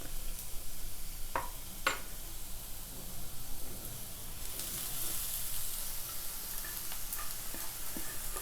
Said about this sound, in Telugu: ఆనియన్స్ బాగా వేగిపోయి ఉన్నాయండి. సో ఇప్పుడు మనం దీంట్లోకి క్యారెట్స్ వేసేసుకుందాం